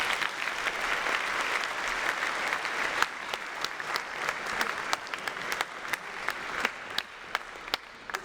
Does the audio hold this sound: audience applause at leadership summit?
yes